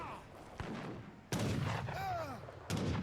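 Culverin artillery fires in an Age of Empires 3 battle, three sharp booming shots spaced apart with a whistling projectile sound between them, loud and close amid game noise.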